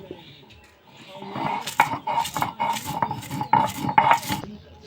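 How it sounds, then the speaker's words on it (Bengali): Fried spices and chillies for a jujube pickle are ground by hand on a flat grinding stone, making a series of rhythmic rasping, scraping strokes with a clear beat, close and moderately loud, and no one talks. "আমি এবার শিলে গুঁড়ো করে নেব"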